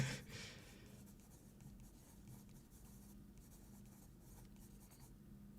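Handwriting with a pen on paper, a soft continuous scratching with short stroke bursts, faint and close, with no talking.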